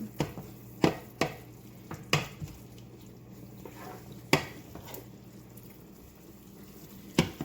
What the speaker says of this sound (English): I'm just going to mix this around a little bit